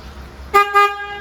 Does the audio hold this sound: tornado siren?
no